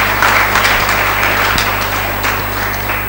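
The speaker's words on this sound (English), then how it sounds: "a big applause for our speakers." An audience at the Jaipur Literature Festival applauds its speakers with sustained clapping that holds steady for a few seconds and then starts to thin out slightly near the end.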